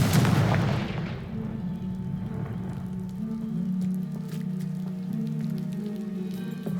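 A Confringo spell blasts a pile of debris in Hogwarts Legacy with a loud opening boom that fades into a lingering rumble, with crumbling rubble and scattered small hits.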